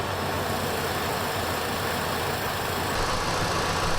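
The engine of a 1968 Buick Electra 225, fitted with ACES Killshot EFI, idles untouched in a steady, even rumble, loud and close throughout with no revving.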